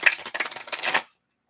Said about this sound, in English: So Leanne, I am going to finish shuffling for you.